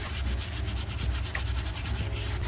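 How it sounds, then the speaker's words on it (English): A magic eraser with a little Goo Gone scrubs sticky residue off an Audi Rotor alloy wheel, making a close, steady, rhythmic rubbing that repeats in quick strokes. "Use your magic eraser with a little bit of Goo Gone"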